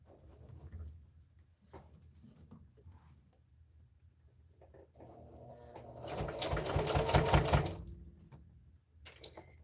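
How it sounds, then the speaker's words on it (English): A sewing machine running in quick bursts of rapid mechanical stitching as it top stitches a fabric mug rug, building to a longer, louder stretch near the end with quieter handling noises between. "And when we top stitch, it's also going to be closing up the hole that we left."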